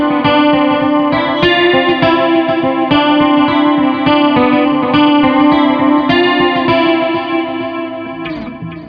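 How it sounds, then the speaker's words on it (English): A Fender American Acoustasonic Telecaster plays a repeating riff through heavy chorus, giving a shimmering, doubled tone with a steady rhythmic pulse that fades slightly near the end. "I just kind of went a bit wild and put a bit of chorus on there"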